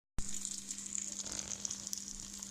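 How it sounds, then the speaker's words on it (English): Chicken melt chaffle frying in butter in a pan, a steady close bright sizzle with a low hum underneath, crackling continuously from start to finish with no talking. "I'm going to cook it in a pan"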